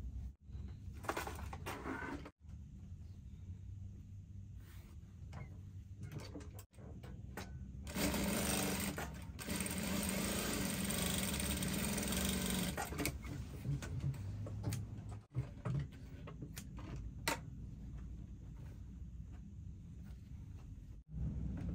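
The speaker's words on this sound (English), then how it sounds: "I'm going to sew in my dart." Sewing machine stitching a dart in a garment with a lace scalloped-edge U-shaped back yoke, a steady mechanical whir running the whole time with a louder, denser burst in the middle and brief pauses between runs.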